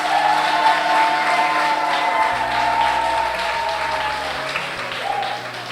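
Wedding guests at a civil marriage ceremony applaud the newly declared couples, a steady wash of clapping that holds for several seconds with a faint sustained tone running beneath it.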